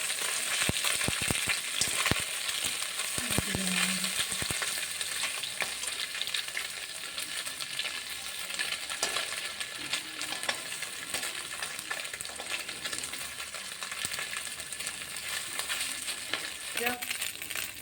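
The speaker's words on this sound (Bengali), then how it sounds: "মাছ ভাজা কমপ্লিট।" Small mourala fish frying in oil in a pan, a continuous dense sizzling hiss that holds steady and close for the whole stretch, broken by a few brief clanks of a utensil, with no speech.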